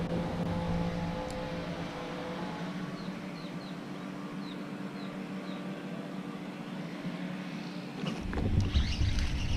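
Strong gusty wind buffeting a small fishing boat out on open water, a constant low rumble and roar against the microphone with faint hull and water noise, swelling louder near the end.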